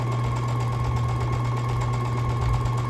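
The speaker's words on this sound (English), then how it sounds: "that's why I am sewing these strips together" A sewing machine runs continuously, stitching cotton fabric strips together for quilt blocks, a steady close mechanical hum with a fine rapid rhythm and no talk.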